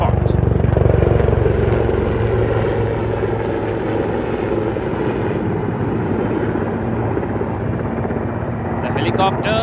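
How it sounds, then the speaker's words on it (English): A military helicopter makes a deliberate approach and settles into a low pinpoint hover over a landing spot, its rotor and engine roaring loud and steady throughout, with a voice talking over it. "notice the helicopter as the pilot, using his superior skills, is making a deliberate approach to establish a pinpoint hover on"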